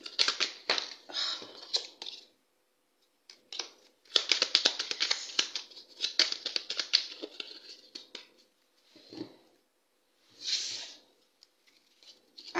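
A tarot deck is cut and shuffled, with rapid papery riffling clatter in several close bursts separated by pauses, ending in softer single card flicks and slides, with no talking.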